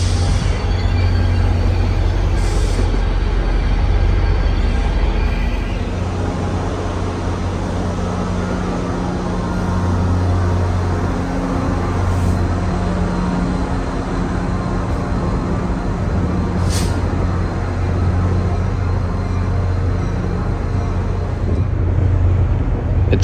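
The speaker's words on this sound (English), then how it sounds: "It's common for NJT to back locomotives up to the station platforms when switching them around the yard." New Jersey Transit locomotives at Hoboken station, GP40PH-2B, ALP-45DP/A and PL42AC types, a loud, steady low diesel rumble and drone that holds throughout, with faint clanks now and then.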